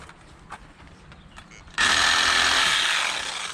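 A pruning saw cuts through a tree branch with a sudden, loud, steady rasp that starts after a stretch of quieter handling sounds and runs on, easing slightly toward the end.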